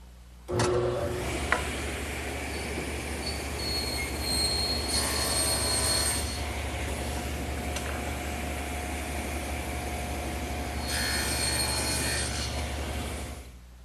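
A table saw with its blade raised to 3/16 inch runs steadily while cutting shoulders on the ends of wooden rails for a tray table. Its loud, sustained whine surges twice during the cuts, with no talking.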